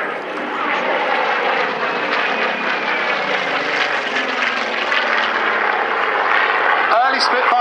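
A Supermarine Spitfire flies at the Dunsfold Wings & Wheels 2014 airshow, its piston engine giving a loud, sustained propeller drone that holds steady throughout.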